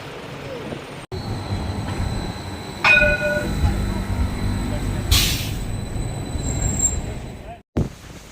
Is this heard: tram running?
yes